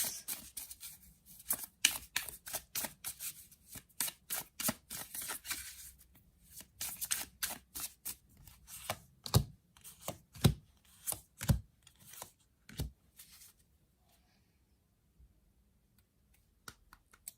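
Tarot cards handled and laid out on a surface produce crisp, quick slapping taps in dense bursts, close and fairly sharp, that thin out into a few separate snaps before fading to near silence.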